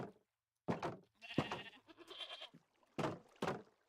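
Goats bleat in the Minecraft video game, several short, loud calls in a row with brief silent gaps between them, close by and with no talk over them.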